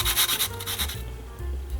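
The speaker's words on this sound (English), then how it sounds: "Now I'm not going to grate it all the way down to get my fingers in there." Frozen watermelon being grated by hand, a close, rhythmic rasping scrape in quick strokes that slows slightly toward the end, with no talking.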